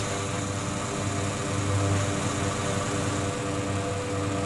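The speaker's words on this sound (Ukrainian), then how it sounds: "Тепер спокійно можемо злітіти." A WWII military plane taking off in a modded video game, a steady loud droning engine roar with broadband rush that swells slightly midway and holds without break, no voices.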